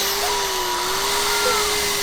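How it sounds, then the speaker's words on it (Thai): A saw runs inside a horror dentist's clinic in the video game Doctor Pain, giving a steady, loud mechanical whine that holds an even pitch throughout with no voices. "นี่มันเลื่อยตัดหัวคนไม่ใช่หรอ"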